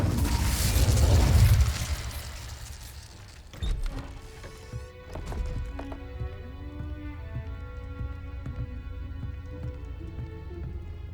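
Casting the Incendio fire spell in Hogwarts Legacy produces a loud whooshing burst of flame up front that fades within a couple of seconds, followed by soft game music with light plinking notes.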